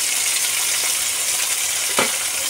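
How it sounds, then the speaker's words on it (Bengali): Onion and chopped capsicum fry in hot oil, giving a steady close sizzle throughout with a brief louder crackle near the end. "প্রথমেই পেঁয়াজ দিয়ে দিলাম, তারপরে দিয়ে দিলাম ক্যাপসিকাম কুচিটা।"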